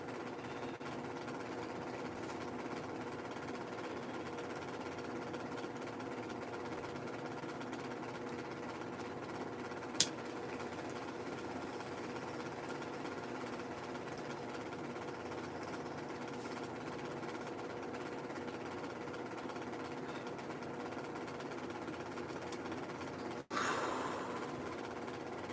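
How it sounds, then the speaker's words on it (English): Steady droning engine noise from a motorcycle parade passing by, a continuous rumbling hum heard from a distance with little change in loudness, a brief click and a short burst of louder noise near the end. "Apparently there's a motorcycle parade."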